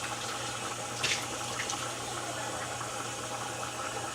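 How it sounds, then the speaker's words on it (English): Water poured into a cooking pot of Dominican sancocho with plantains and yuca, a steady watery rush over a constant low hum with a brief splash early on, no voices. "we are going to add a little bit of more water"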